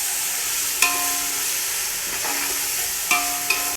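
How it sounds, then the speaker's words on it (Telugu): Garlic paste fries in a pan with a steady, bright sizzle throughout, broken by a few sharp scraping or clinking stirs against the pan. "గార్లిక్ పేస్ట్ అంతా కూడా పచ్చివాసన పోయేంత వరకు ఫ్రై"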